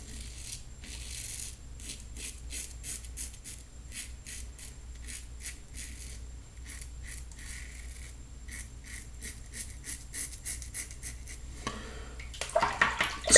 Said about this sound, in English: Bit of a noisy razor.